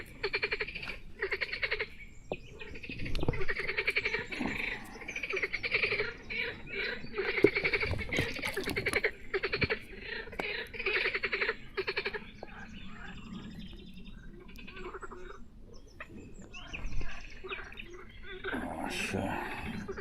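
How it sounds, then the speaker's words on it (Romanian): Frogs croaking near a fishing spot, dense overlapping calls filling the scene continuously with scattered bird chirps mixed in. "Și îmi place orăcăitul ăsta al broaștelor."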